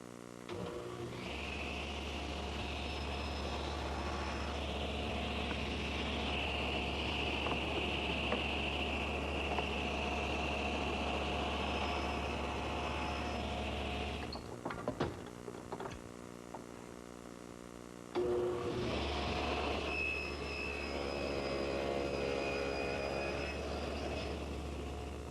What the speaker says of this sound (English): I'm going to use my panel cutter because it has a nice, long, straight front edge, which helps hold the piece steady